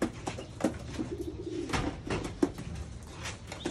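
Japanese pigeons cooing close by, a series of soft low throaty coos repeating in uneven bursts with faint rustling between them.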